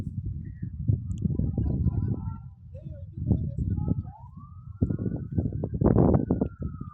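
A fire service vehicle siren, responding to a hillside fire in Saudi Arabia, wails in a rising sweep that grows louder in the second half. People talk loudly over and around it, with background crowd noise.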